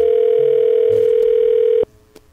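A loud, steady telephone dial tone drones after a call drops, then cuts off abruptly, leaving faint background noise and a small click.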